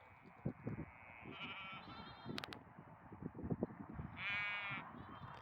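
Sheep bleating in a field near an old colliery tramway embankment in Northumberland, several calls at moderate distance, some overlapping, with outdoor background noise and a brief high chirp.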